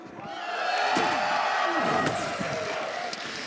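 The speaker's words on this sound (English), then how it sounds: "Sounds to me like the crowd favors Sonic Fox." A large crowd at the Mortal Kombat 1 grand finals roars and cheers loudly and continuously, with shouts and a few thuds mixed into the sustained noise.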